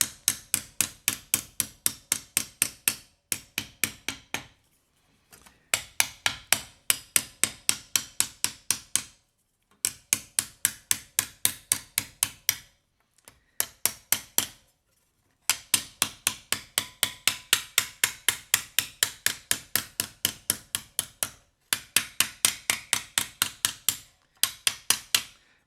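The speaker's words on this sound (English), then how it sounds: "turn this on its side and hammer it on its side, bringing both of the edges in evenly" Rapid bursts of metal hammer blows striking the side of a pierced metal spatula, evenly spaced strikes grouped into runs of a dozen or so, separated by brief pauses, close and ringing.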